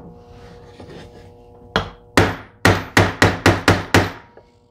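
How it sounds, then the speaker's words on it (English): A hammer strikes a wood deck screw in a boat-building workshop: soft handling noise, then about eight sharp, loud blows, accelerating into a quick rhythm near the end. "Probably takes a hammer to do it."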